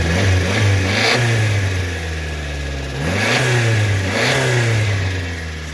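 A smoking John Deere minitruck engine revs up several times from idle, loud and close, with rising and falling throttle sweeps over a steady rough running drone.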